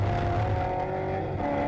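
V8 Ute race cars, Holdens and Fords, race at Winton in 2009, with a loud, steady, throaty engine drone holding at high revs for a couple of seconds and no talking.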